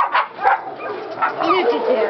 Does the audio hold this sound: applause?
no